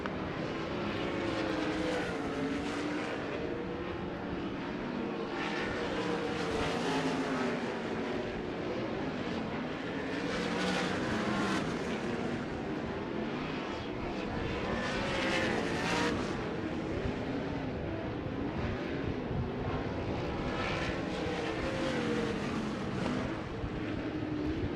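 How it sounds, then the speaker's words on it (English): USAC National Sprint Car Championship cars running hot laps on the dirt oval at Knoxville Raceway, a continuous loud engine roar that swells and fades in waves as the pack passes. "drivers come around to complete their opening lap at Dirt Draft Hot Laps"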